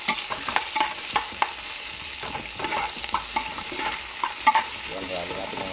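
Garlic and onion sauté in a pan for beef meatballs: a continuous, fairly soft sizzle with frequent clicking and scraping from the stirring spoon, and no voices.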